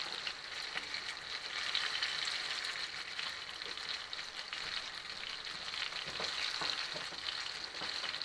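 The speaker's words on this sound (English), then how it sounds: "Keep these eggs from sticking to the pan." Eggs scrambling in butter in a cast iron pan, a steady bright sizzle with soft scraping as they are stirred, continuous and close throughout.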